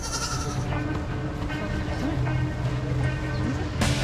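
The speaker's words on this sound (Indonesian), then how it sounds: "Terbukti juga kalau kambing berkomunikasi lewat suara." A goat bleats a few times at moderate distance over a busy background hum and chatter.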